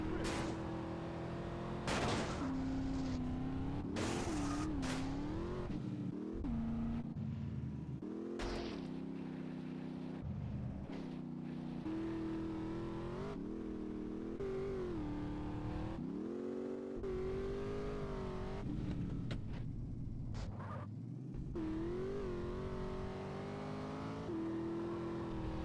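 Car engine in Grand Theft Auto San Andreas Definitive Edition, a steady droning hum that rises and falls with acceleration and gear changes, broken by sharp cuts and impacts, continuous and fairly loud throughout.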